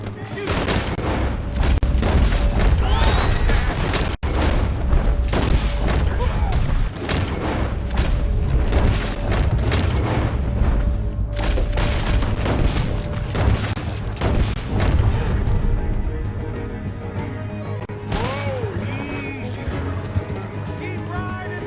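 Gunfire in the video game Red Dead Redemption 2, with repeated loud close shots and booming reports over continuous rumbling action throughout, with occasional voices shouting in the mix.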